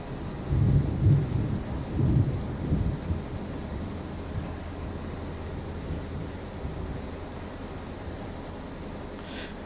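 Steady rain hisses in Train Sim World 4 while a deep thunder rumble rolls in loud at first and then fades into a constant wash of rainfall.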